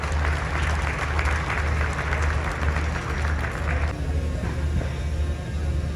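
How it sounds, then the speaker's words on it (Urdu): Sustained audience applause welcoming the managing director of a private limited company at a Lahore smart city balloting event, steady and fairly loud for about four seconds before thinning out, with a low hum underneath. "میں آپ سب حضرات کی تالیوں میں خوش آمدید کرنا چاہتا ہوں"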